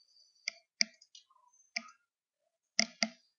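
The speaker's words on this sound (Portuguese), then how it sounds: "Clique no botão Iniciar" Crisp mouse clicks on the Windows 7 Start button, a handful of short, sharp, close clicks spaced irregularly over a quiet background, with no talking.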